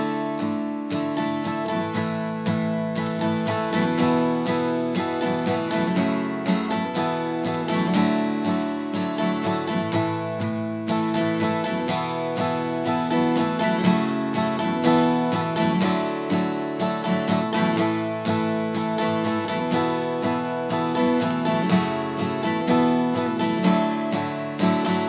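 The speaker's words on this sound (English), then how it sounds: "So the chorus, if we use this strum pattern, it's going to sound like this." Acoustic guitar strumming the chorus of a song in a steady down-down-up pattern, bright and close, continuous chord changes with no voice.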